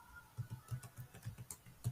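Someone enters a phone number on a computer keyboard while signing up as a Meesho seller: about a dozen quiet, quick key taps in an uneven rhythm, close and alone.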